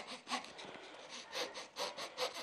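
A fret saw cuts a thin sheet of wood for marquetry with quiet, rhythmic rasping strokes, steady back-and-forth pulses heard alone at close range.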